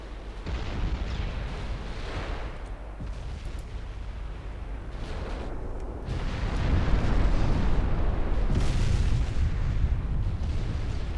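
Naval gunfire and shell explosions in Ultimate Admiral Dreadnoughts during a close-range warship battle, a continuous barrage of heavy booms and blasts that swells louder partway through, rumbling steadily with no talk over it.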